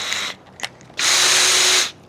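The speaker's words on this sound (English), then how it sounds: "I'm going to tap actually through both of those" A power tool whirs in short bursts while tapping threads through two holes in metal on a wood-fired outdoor oven build, with a brief burst, a click, then a longer sustained run, close and loud.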